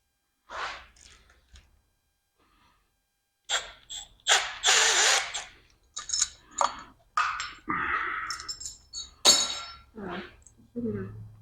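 Ratchet clicking as a bolt is backed out of a Small Block Chevy engine during a refresh, quick bursts of mechanical ratcheting mixed with clinks of loose hardware while people talk nearby.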